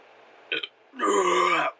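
A short burp from a movie: a brief gulp-like onset, a half-second pause, then one loud, drawn-out belch lasting under a second.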